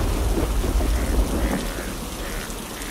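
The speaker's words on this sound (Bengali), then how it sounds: "বৃষ্টি শুরু হয়ে গেল যে, এখন কি করব?" Rain falling with low thunder rumbling in a Bengali fairy-tale cartoon, a steady loud downpour with a heavy rumble in the first half that eases slightly, no voices.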